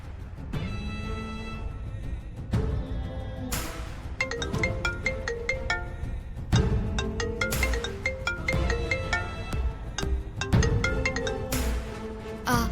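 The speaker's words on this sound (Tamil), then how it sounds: "மாரிக்கு ஃபோன் பண்ணி சொல்லிடுவோம்." A phone ringtone plays a melodic, repeating tune in bursts of several notes, loud and close with no talking over it, heard while a call is being placed.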